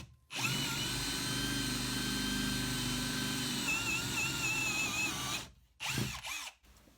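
Power drill with a 10 mm wood bit boring into wood, a steady high-pitched whine held for about five seconds before stopping, followed by a brief spin-down burst.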